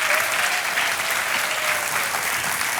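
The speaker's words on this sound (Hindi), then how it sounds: "ताली बजती रहे बुआ जी के लिए" A studio audience on a TV quiz show claps steadily for a contestant's aunt, a thick, even wash of applause that holds at the same level from start to finish.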